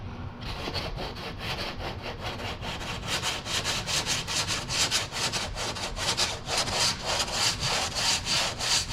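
Body filler on a late model car panel being sanded by hand during collision repair, a steady series of rhythmic rasping strokes, close and continuous, alone without talk.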